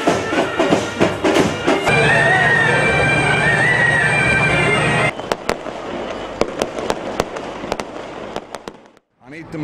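Fireworks at a festival flag hoisting ceremony with colored light decorations: a dense, loud crackling barrage that breaks into scattered sharp bangs and pops, then fades away near the end.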